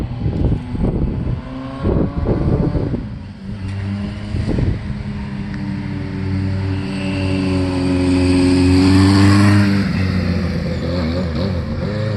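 A 1976 Kawasaki KZ900 four-cylinder four-stroke motorcycle runs through Carcraft mufflers, its low, throaty exhaust note rising in a rev and then holding a strong, steady drone, loud and close with no talking.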